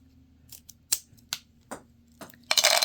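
Scissors snip through the string of a beaded charm, producing several sharp, separate clicks spaced apart, followed by a brief louder rattle near the end, close up with no talking.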